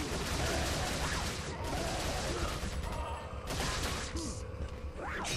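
Gunfire in the video game Resident Evil 4, a dense continuous barrage of shots and impacts under loud game noise, with a player's voice exclaiming briefly.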